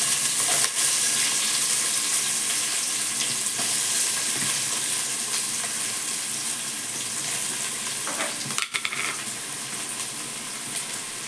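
Sliced onions sauté in hot oil in a cooker for veg biryani, giving a steady, loud sizzle throughout, with occasional stirring scrapes and a brief clatter near the end.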